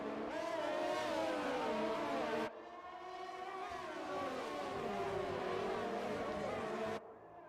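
Race cars roar around a track in a racing video game at the Canada round: a continuous, loud, high-pitched engine whine that rises and falls in pitch as cars accelerate and shift, with one car briefly dropping out of focus.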